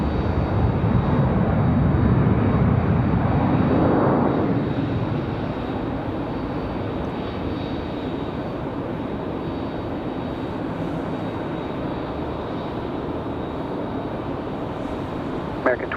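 A United airliner lands on runway 23 right at Raleigh-Durham airport, a steady loud engine roar that swells early and then settles into a sustained rumble, with faint background noise toward the end.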